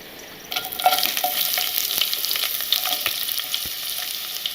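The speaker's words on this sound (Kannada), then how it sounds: "ಈಗ ನಾನು ಒಂದು ಮೀಡಿಯಂ ಸೈಜ್ ಕಟ್ ಮಾಡಿರೋ ಈರುಳ್ಳಿ ಹಾಕ್ತಾ ಇದ್ದೀನಿ." Medium-cut onions drop into hot oil with a bay leaf, starting a sudden bright sizzle that continues steadily, with scattered stirring clicks and crackles close by and no talk.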